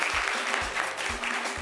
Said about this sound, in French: Les amis, applaudissez pour lui s'il vous plaît.